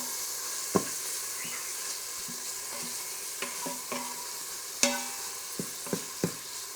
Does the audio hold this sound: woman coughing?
no